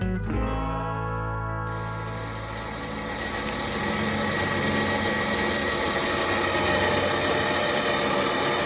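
A side-by-side utility vehicle idles on a trail being cleared through the woods. Its engine gives a loud, close, steady rumble that holds without a break.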